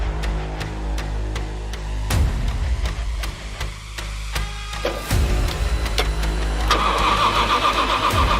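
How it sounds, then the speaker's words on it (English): A supercharged V8 Formula Drift car engine roars loudly and close, revving in repeated rising surges with sharp throttle blips and a harsh, sustained growl. "Kendrick Myers, Supercharged V8 right there"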